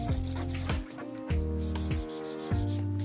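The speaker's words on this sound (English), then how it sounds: "When you're filing gel, you'll be able to tell immediately where you have a low spot" A file works over a gel nail overlay on French nail tips in short, regular scraping strokes, about one every half second, close up over a steady tonal hum, with no talking.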